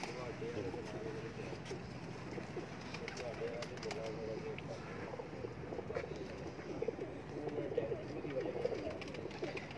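Soft pigeon coos repeat in a low, throaty rhythm amid background chatter and a steady outdoor murmur on a rooftop.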